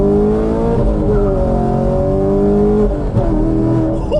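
A car pulls hard in first gear with traction control off on Nitto 555R2 drag radial tires, its engine loud and close, rising in pitch steadily with a brief shift-like dip near the end.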